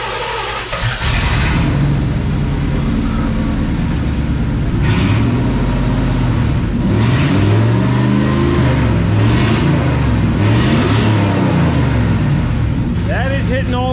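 V8 engine of a barn-find Camaro IROC-Z, unused since the 1990s, running steadily near and loud with rising and falling revs throughout, under occasional talking.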